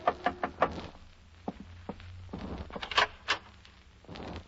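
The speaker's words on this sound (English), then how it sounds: "a knock on the door changed my mind again" A radio-drama knock on a hotel room door: a quick run of sharp raps, then scattered thuds and shuffling, close and fairly clear.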